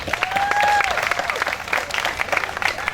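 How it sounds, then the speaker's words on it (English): A rally crowd at a clean water event in Fort Myers, Florida applauds steadily for three seconds, with a couple of sharp whistles rising above the clapping early on. "I'd like to go ahead and have you all give yourselves a round of applause"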